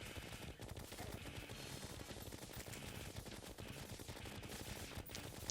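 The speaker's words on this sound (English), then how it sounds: "Continue to shoot constantly." Constant rapid gunfire from shooting in the video game Terraria, forming a dense, steady stream of shots that continues unbroken and plays alone without talk.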